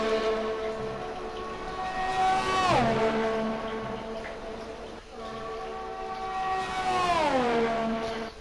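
An F1 race car in the F1 2020 video game, a McLaren at the Belgian Grand Prix, screams past with a loud, high harmonic engine whine that swoops sharply downward twice as it passes, with no talking.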